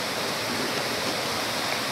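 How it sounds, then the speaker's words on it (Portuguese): A waterfall stream pours over rocks on a rainy outing, giving a dense, constant hiss and rush of flowing water, loud and close, with no voices. "Já o barulho da água já faz bem."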